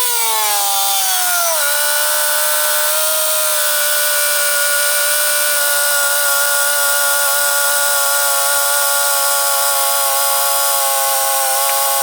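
A Honda car with an H23a1 engine starts and then idles, the engine note settling down after a few seconds into a steady, loud, even hum that carries on without a break.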